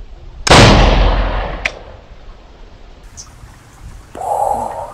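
A homemade spirit-fuel firecracker made from a milk can goes off with one sharp, loud blast that decays into a long rumbling tail, followed by a few faint clicks and a later hiss-like burst.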